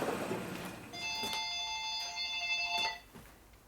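A telephone rings in a motorcycle workshop: two bursts of electronic trilling tones, moderately near and clear, with no talk over them.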